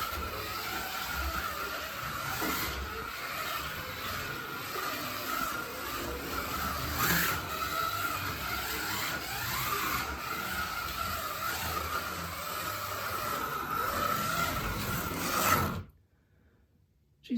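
A 37-year-old Holden Monaro driving along, its engine droning steadily with mechanical rattles and road noise from inside the car for about sixteen seconds before cutting out abruptly.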